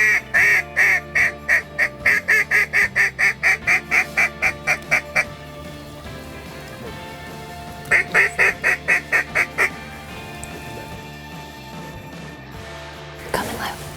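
Duck calls ring out on a waterfowl hunt for teal and mallards, with loud rhythmic bursts of quacking in two runs, and voices talking quietly beneath.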